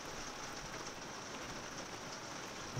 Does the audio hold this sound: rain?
yes